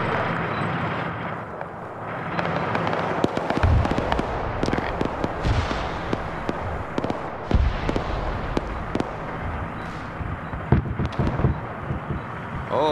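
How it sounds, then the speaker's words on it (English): Heavy flanking gunfire in a WW2 armor video game: dense bursts of rapid cracks and booming impacts, some close and sharp, others distant, continuing throughout with faint voice chatter underneath. "Oh, that's a lot of flanking fire"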